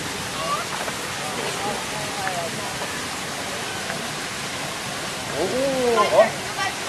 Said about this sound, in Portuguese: Água corrente.